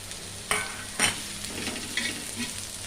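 Greens sizzle and crackle in a hot pan, with a few brief stirring scrapes breaking through the steady frying hiss.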